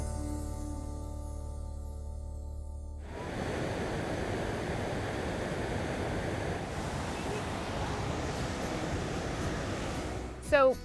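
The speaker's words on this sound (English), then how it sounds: "right behind me is the biggest waterfall in Michigan, Upper Falls at Tequamon Falls State Park" Upper Tahquamenon Falls in Michigan's state park, a broad steady rushing roar of heavy falling water that starts after a few seconds of tonal sound and continues evenly, with a brief louder knock at the end.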